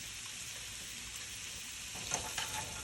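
Thin-sliced steak and vegetables sizzle steadily in a hot pan, a soft continuous hiss, with a few brief scraping bursts near the end as the food is pushed around.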